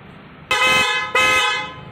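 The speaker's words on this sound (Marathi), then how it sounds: "आपण आता हे जे हॉर्न बसवलेले आहेत ते हेल्ला कंपनीचे बसवलेले आहेत" A newly fitted Hella car horn sounds two loud, bright honks in close succession, the first about half a second long and the second longer and fading, each rich in harmonics, heard near and alone without talk.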